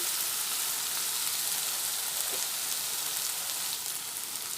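Spices fried in a pan for Bengali muri ghonto, giving a continuous soft sizzle and hiss that stays even and fairly quiet throughout, with no talking.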